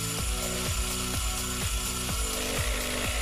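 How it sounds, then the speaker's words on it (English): An end mill cuts the gaps between gear teeth on a milling machine with a dividing head, producing a steady, loud machine whine punctuated by regular rhythmic cutting thumps about twice per second. "set about milling the gaps between the teeth"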